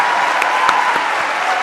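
Audience in a lecture hall applauding after a talk on depression, a short, dense, steady burst of clapping heard close and alone.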